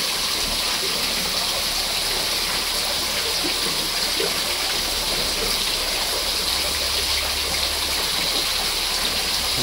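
Running water rinsing black carp fish, a steady loud rushing splash that continues evenly throughout with no talk.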